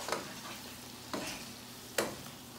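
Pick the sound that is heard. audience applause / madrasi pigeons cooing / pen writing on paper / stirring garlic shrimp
stirring garlic shrimp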